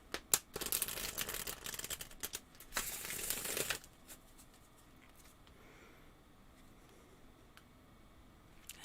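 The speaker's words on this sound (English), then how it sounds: "I'll go ahead and shuffle the cards" Tarot cards being shuffled by hand in a quiet room: a few seconds of dense, crisp riffling and flicking with sharp card snaps, then fading to soft occasional handling noises.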